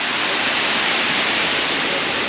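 Steady, loud broadband rush of a mountain waterfall, continuous and unbroken throughout with no voices.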